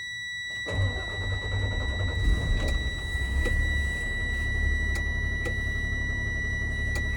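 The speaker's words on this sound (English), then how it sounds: "now can safely start my engine" A Class B truck at a trucking school cranks over and fires up, then settles into a loud, steady low engine rumble with a few faint clicks and beeps on top; no one speaks.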